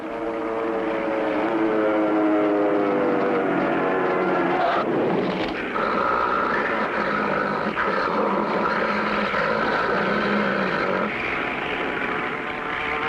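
A cartoon crop duster propeller airplane drones loudly, its pitch sliding as it goes into a dive, then levels into a steady buzzing engine tone mixed with other soundtrack noise.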